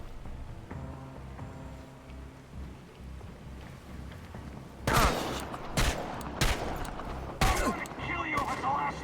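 Gunfire in the video game Chernobylite: several loud, sharp bursts of shots in the latter half, following a quieter rumbling stretch, with a voice talking in the background.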